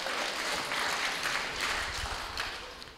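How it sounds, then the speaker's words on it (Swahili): A church congregation at a parish celebration claps together, a dense, steady burst of applause lasting a few seconds. "Naomba tuwapigie makofi."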